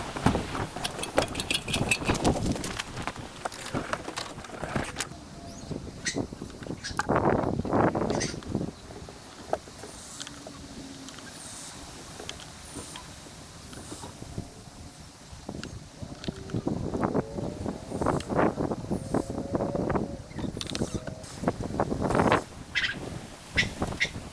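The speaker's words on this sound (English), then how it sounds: "Man, it is windy today." Strong gusts of wind buffet the microphone outdoors beside a boat hull under repair, coming in irregular rumbling surges that rise and fall over the whole stretch, with quieter lulls between the loud bursts.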